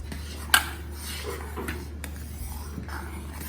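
A spoon stirs thick bread kheer in a pan, giving one sharp metallic clink followed by soft, faint scraping and dabbing over a low steady hum, close by.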